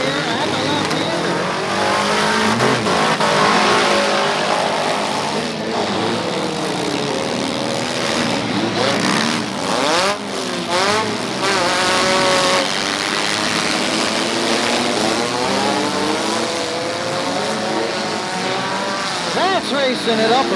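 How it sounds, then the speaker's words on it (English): Cars in a demolition derby at Upperco power through a left-hand hairpin with continuous roaring engines and squealing, skidding tires, while a voice talks over the loud racing. "Everybody just beating and banging. Everybody pushing their way through at the hairpin here at the left-hander."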